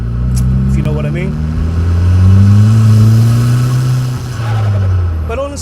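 A 1.8T big-turbo car engine revs under load during a clutch slip test, its tone climbing and sustaining loud and close before dropping off, while someone talks over it.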